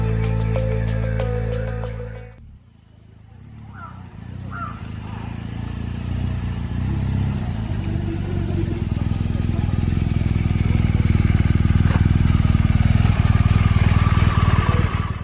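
A brand-new 2018 BMW K1600 GTL touring motorcycle riding on the road, its engine a steady loud drone with wind rush building over the clip, after a brief burst of other sound at the start.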